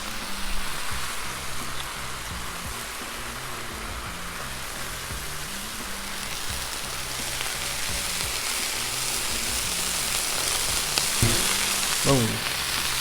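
Corned beef hash fries on a Blackstone griddle with a dense, steady sizzle like heavy rain, close and continuous, with a few scraping spatula clicks near the end and no talk.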